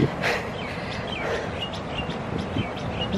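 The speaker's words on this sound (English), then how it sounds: "I can hear the music of the birds, the humming of the birds, the chirping of the birds" Birds chirp in a city park along the Doha Corniche, with scattered short calls over a steady outdoor wash of ambient noise, moderately distant.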